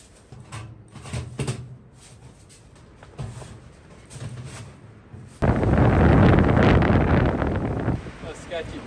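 Heavy wind buffeting an outdoor winter camp with a canvas hot tent, starting as gusty rumbles under brief talk and then swelling into a loud, sustained roaring blast across the microphone.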